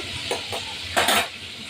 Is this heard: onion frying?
yes